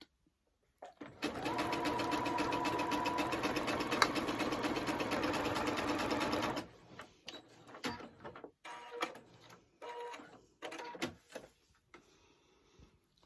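A sewing machine stitches around the edges of an appliqué with a loud, steady, rapid mechanical whir lasting several seconds, then stops, leaving light fabric handling and rustling.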